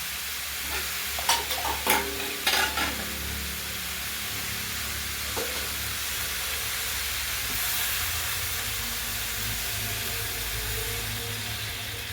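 Water poured into a pan of bitter gourd dal brings a few sharp splashes and clatters, then a steady soft hiss and sizzle that runs on quietly with no speech.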